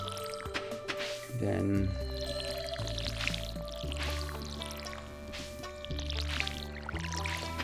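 In Stardew Valley, a crop is watered with short splashy drip and pour effects over looping game music, and someone talks through it.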